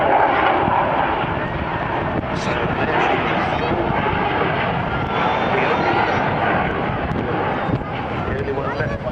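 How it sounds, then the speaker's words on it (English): Propeller aircraft droning overhead at a seafront air show, a loud steady engine roar filling the scene with crowd noise and voices talking beneath it. "These amazing aeroplanes."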